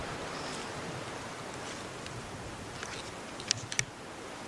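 A river runs beside limestone waste piles at an abandoned ghost town near Lancaster, PA, a steady broadband rush of flowing water with a few faint ticks and clicks near the end.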